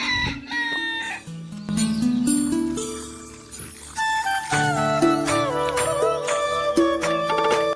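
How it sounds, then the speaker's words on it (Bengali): Village chickens cluck and crow in loud, overlapping, shifting calls that continue without a break from start to end. No one speaks. "ওই দেখো মুরগি চেঁচাবেচি করছে দেখছো কেমন"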